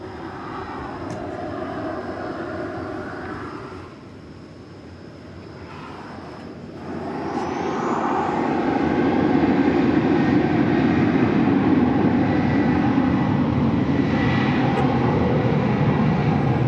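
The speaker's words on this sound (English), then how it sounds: "As we watch American Flight 1434 headed off to Vancouver" An American Airlines Boeing 737-800 bound for Vancouver departs DFW Airport in the evening, with jet roar that dips briefly, then builds into a louder, sustained rumble as the aircraft powers away.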